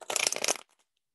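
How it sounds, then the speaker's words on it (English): A short, close riffle of tarot cards being shuffled gives a rapid papery flutter that stops abruptly, with no talk over it. "I'm gonna just give this a big shuffle."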